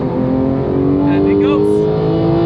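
A steady, loud Porsche 991.2 GT3 engine drone with layered harmonics, a sustained breathy intake roar holding at high revs without pause.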